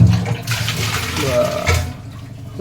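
Water in a fish container being changed, splashing and pouring loudly and close for about two seconds before easing off.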